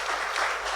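A church congregation claps during a pastor's installation service in Indonesia, a brief, dense burst of applause filling the hall.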